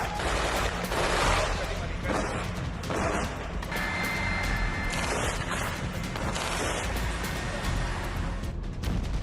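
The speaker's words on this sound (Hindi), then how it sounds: "गाजा एक बार फिर गोलियों की आवाज से कांप उठा।" Gunfire in Gaza captured as news footage: dense, continuous bursts of rapid shots, loud and close, rattling without pause with some echo and background noise.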